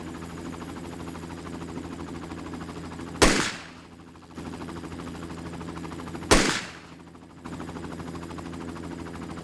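Two loud, sharp gunshot sound effects ring out a few seconds apart over a steady helicopter rotor drone, and the drone drops noticeably quieter after each shot before jumping back.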